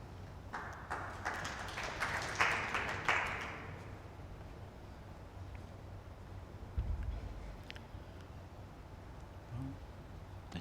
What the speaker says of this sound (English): Clap for that previous ball.